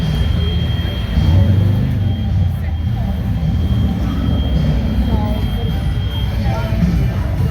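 A steady, loud low rumble from a model train display's train sound effects, continuous throughout, with faint voices underneath, at a summer street festival.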